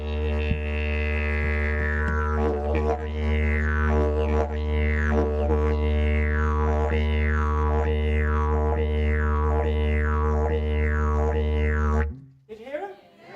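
A yidaki, or didgeridoo, drones low and steady while the player voices rhythmic rising whoops over it, about ten regular hops imitating a big red kangaroo bounding along, before the drone stops abruptly.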